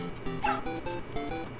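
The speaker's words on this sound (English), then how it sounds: "Oh, it's that Undo Dog!" A cartoon dog in the Mario Maker video game barks in a quick series of short, yappy bows and yips, bright and close, with no talk over it.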